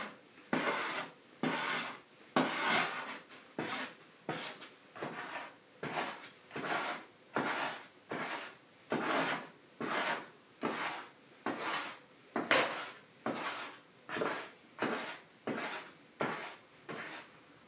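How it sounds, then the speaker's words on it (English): A dough scraper drags repeatedly across a work surface, lifting stray unmixed dough in a steady series of rhythmic rasping strokes, close and fairly loud with no talking. "use the scraper to get all this dough that didn't want to mix into the rest of the dough"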